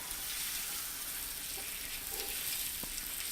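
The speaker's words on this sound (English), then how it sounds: "So we're going to pop this in on the skillet. Now stand back, because this gets really hot." Herb pork laid into a hot skillet, giving a steady, close sizzle and frying hiss throughout with faint clinks of movement, no talk.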